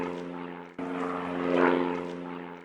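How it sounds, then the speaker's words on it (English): A British propeller-driven reconnaissance plane drones overhead with a steady engine hum and a noticeable swell in the middle as it passes, faint and moderately distant, with no voices. "the British force sent out a reconnaissance plane"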